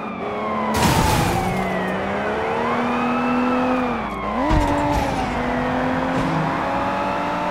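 A wailing police siren in the video game Sleeping Dogs, rising and falling over a steady car engine drone, with a brief skid or thump midway.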